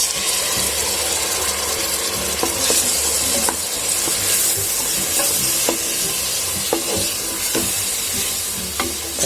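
Tomatoes sauté in a hot pan over ginger-garlic paste for a Tamil-style pearl millet (kambu) biryani, giving a steady close sizzle and fry with repeated scraping and stirring clicks from a spatula, with no talk.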